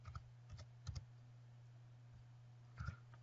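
Keys on a computer keyboard are typed in short, faint clusters of clicks with a pause between them, over a steady low electrical hum.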